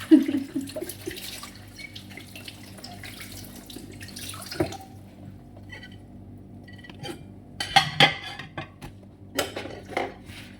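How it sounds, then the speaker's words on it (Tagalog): Dishes and plates washed slowly under running tap water in a kitchen sink, a steady faint trickle with occasional clinks of crockery and cutlery rising now and then. "Pag maghugas dahan-dahan lang, baka magkabasa ang mga plato nito"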